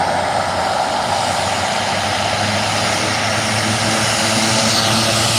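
A propeller-driven firefighting air tanker taxis back to base at Nevada County Airport (KGOO) during the Highway Fire. Its engines give a loud, steady, close drone that holds constant throughout.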